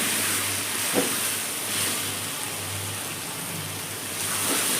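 Chicken sizzles and fries with onion, ginger and garlic paste in a pan, a steady soft hiss with faint crackles, close and alone without talk.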